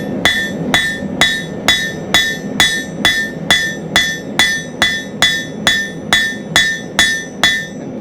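A blacksmith hammers hot steel on an anvil, thinning the final section of a can tab opener, with about fourteen sharp, ringing blows in a steady rhythm, each clang near and loud with a bright metallic ring.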